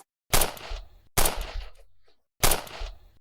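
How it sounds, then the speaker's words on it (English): Three loud gunshots crack out in sequence, each a sharp close blast with a short ringing tail, separated by brief silences. "The first thing people heard was the gunshot."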